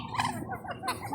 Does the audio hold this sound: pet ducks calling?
yes